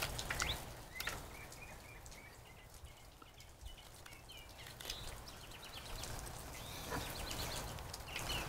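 Birds chirp and trill outdoors in short repeated phrases, moderately distant, over a steady low rumbling background with a few scattered taps.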